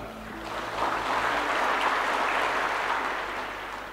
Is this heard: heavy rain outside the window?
no